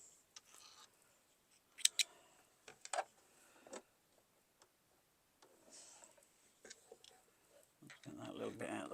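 Small scissors snip thread at a quilt-block sewing table, a few quick, close, crisp clicks among soft handling noises, with a person talking nearby.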